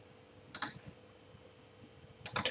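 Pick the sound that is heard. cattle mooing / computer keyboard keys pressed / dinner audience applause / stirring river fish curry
computer keyboard keys pressed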